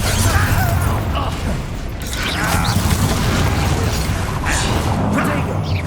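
Confringo spell blasts in Hogwarts Legacy, loud crackling bursts and booming impacts over a busy rumbling combat din, with a few sharp whooshing hits spaced across the scene.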